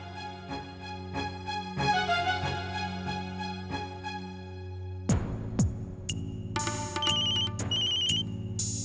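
A telephone ringtone plays on an outgoing call, steady tonal rings at first, then a brighter, higher electronic ring pattern repeating in short bursts, close and clear with no talking.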